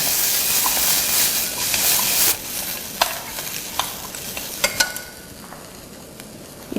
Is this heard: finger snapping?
no